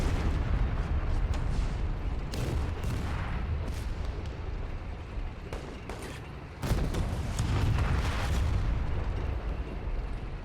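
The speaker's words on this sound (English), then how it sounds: "Enemy artillery here." Enemy artillery fire in a war video game during a massive German invasion of a Russian city, heard as a dense, continuous roar of distant explosions and booming impacts with occasional sharper blasts throughout.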